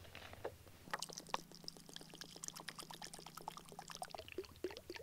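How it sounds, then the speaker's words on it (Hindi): Water is poured into the yellow lower section of a plastic insect trap, a steady low gurgling stream lasting about three seconds among close, crackly splashes and handling noise. "नीचे के हिस्से में आपको सिंपल तरीके से यहाँ पे पानी भर देना है"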